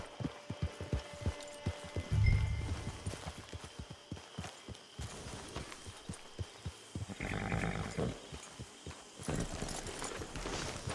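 Horse hooves clip-clop at a walking pace in Red Dead Redemption 2, with a steady run of distinct, fairly close hoofbeats, a few louder thuds and brief game noises between them.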